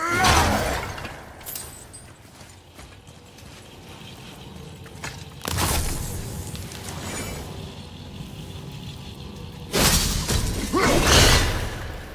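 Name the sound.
objects shattering in the video game God of War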